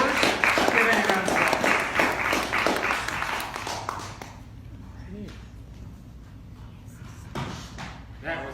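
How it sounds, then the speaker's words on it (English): Audience applause at a fringe theatre show: a dense wash of clapping over the first four seconds that fades out, followed by quieter room sounds and a few thumps. "Eddie, give Eddie a round of applause."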